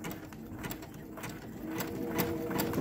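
A Brother Quattro 2 6700D sewing machine runs a decorative stitch, with a steady, close mechanical whirr and a rhythmic needle clatter that picks up pace toward the end.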